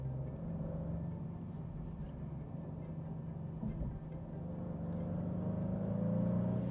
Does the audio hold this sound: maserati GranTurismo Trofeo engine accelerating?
yes